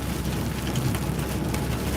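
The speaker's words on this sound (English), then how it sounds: "Yeah, big bloody raindrops" Heavy rain with big raindrops drumming steadily on a truck on the road, a dense continuous patter over a low rumbling background, loud and unbroken throughout.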